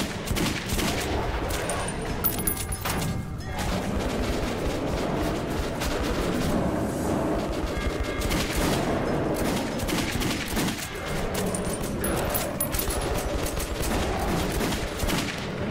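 Dense, sustained gunfire from the video game Metro 2033, rapid bursts of automatic shots rattling continuously at close range with a few sharper cracks, loud throughout and with no talking over it.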